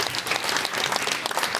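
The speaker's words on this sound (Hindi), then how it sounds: "एक बार जोरदार तालियां होनी चाहिए उदय जी के लिए।" Audience applause at a comedy show in Bollywood Park, Film City Mumbai: a dense, even burst of many hands clapping together, loud and sustained, with no talk over it.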